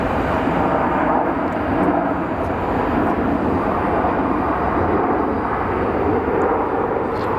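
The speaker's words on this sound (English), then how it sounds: "Man, they've all been hitting up pretty decent landings." Airliner landing at Phoenix Sky Harbor Airport, a steady loud broadband jet roar that holds throughout without a break, no voices over it.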